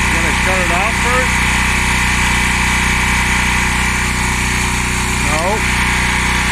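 An air compressor runs steadily and loudly throughout, a constant droning hum, while voices talk over it near the start and again toward the end.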